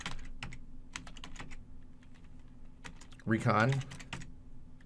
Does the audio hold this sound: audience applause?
no